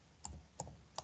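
Soft keystrokes on a computer keyboard, three quiet, close clicks spaced apart over a faint background hum, with no talking.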